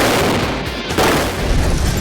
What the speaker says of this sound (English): after an explosion like that